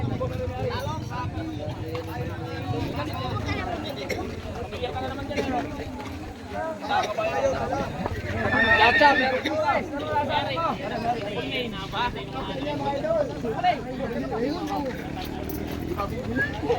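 Horse hooves clip-clop at a horse fight, mixed into a busy crowd hubbub with continuous chatter and talking throughout; no clear neigh stands out.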